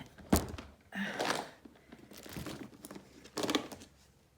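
Washi tape being handled for a junk journal: a sharp thunk, then bursts of crinkling and tearing, fairly close and quiet, with soft pauses between.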